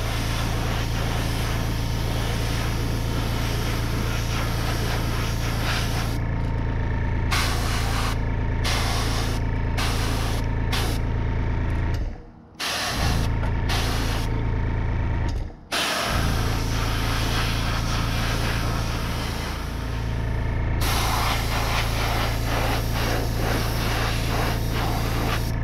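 An airbrush lays a second coat of red paint onto crankbaits, a steady close hiss over a low compressor rumble, broken by several short pauses as the trigger is released.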